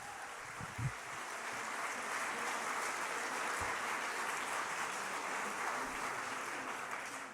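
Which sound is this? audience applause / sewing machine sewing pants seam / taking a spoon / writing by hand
audience applause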